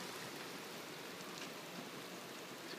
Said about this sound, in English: I think this is hail.